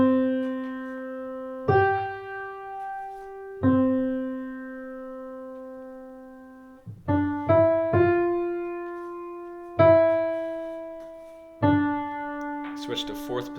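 Piano playing the opening of a song in a simple arrangement: about eight clear notes struck one at a time, each ringing and decaying before the next, played alone and close with no talking.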